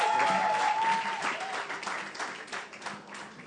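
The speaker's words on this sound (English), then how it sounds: "One more round of applause." Audience applause at a 2019 Innovating Justice Challenge regional finals event in Lagos, a steady burst of many hands clapping that gradually thins and fades over a few seconds, with no talk over it.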